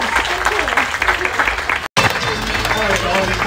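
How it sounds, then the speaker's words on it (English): A festival audience applauds a baker at a food festival demonstration stage in Hylands Park, Chelmsford, with dense sustained clapping that breaks off briefly midway before resuming. "We get a round of applause for Gemma Williams."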